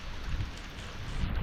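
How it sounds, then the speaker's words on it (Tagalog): Heavy rain pours steadily during a fishing trip, a dense continuous hiss mixed with low wind rumble against the microphone, loud and unbroken with no talking. "So lakas ng ulan, oh."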